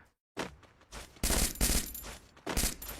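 Gunfire in the video game Free Fire comes as rapid, loud bursts of automatic shots, separated by brief gaps.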